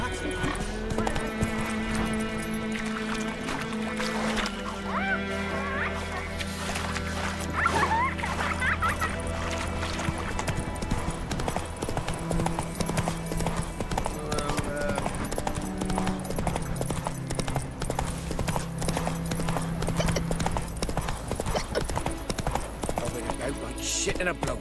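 Roach, the horse in The Witcher 3: Wild Hunt, moves at pace with rhythmic hoof clip-clops and an occasional whinny, heard beneath voices talking and a layer of game sound.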